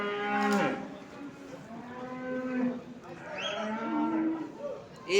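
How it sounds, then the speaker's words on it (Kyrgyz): Horned cows at the Karakol livestock market low in two long, drawn-out moos, close and clear, with a quieter bovine call between them over faint market background. "Мынакей момундай музолуу уйлар бар экен."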